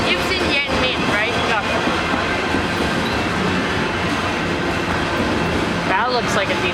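Canadian Pacific freight train passing at Pitt Meadows, a steady close rumble with rhythmic clickety-clack of wheels over rail joints and occasional squeals, with a person talking over it.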